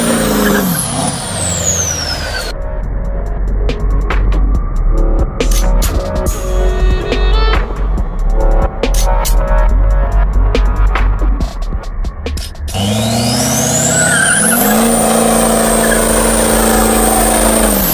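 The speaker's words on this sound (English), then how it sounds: "this is only the 200th or 300th burnout I've done with this truck" A boosted truck doing a burnout without mouse trap glue roars at high revs with a whining, rising engine note, loud and continuous throughout, with tire and engine noise swelling near the end.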